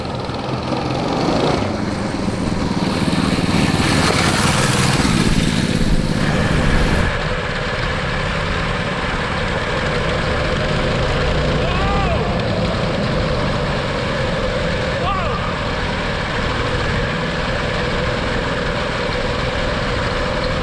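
A three-engine drifting mini bike on drag racing tires revs hard while being ridden across a flat stretch of property, the loud engine roar easing off after about seven seconds into a steadier, quieter drone.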